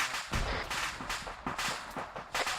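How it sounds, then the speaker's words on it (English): Crossing gunfire from an unseen position: a quick string of sharp, moderately distant shots cracking at uneven intervals, with no talk over them. "Sounds like we have crossing gunfire coming in from somewhere."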